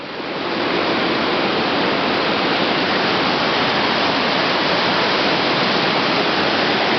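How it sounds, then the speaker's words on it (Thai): A steady, loud roar of falling water at the head of a waterfall dropping over a cliff in Hala-Bala, continuous broadband rushing with no voices over it. "ก็ตรงนี้ก็เป็น หัวน้ำตกนะฮะเป็นผาลงไป"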